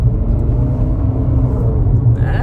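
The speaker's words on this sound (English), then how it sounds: "Let's give it just a little bit of gas." A 2022 Infiniti QX55 accelerates gently on a back road under light throttle. A low, steady engine rumble is heard from inside the cabin, with a faint rising whine near the end and no talking.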